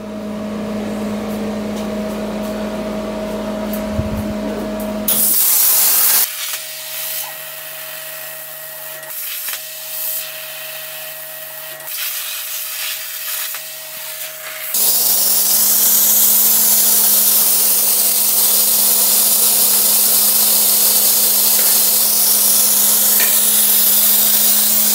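An ArcDroid CNC plasma cutter runs a cut with a revised kerf setting: a loud hissing roar with humming tones, interrupted by a stretch of quieter mechanical buzzing and sputtering, then a steady hiss for the last ten seconds.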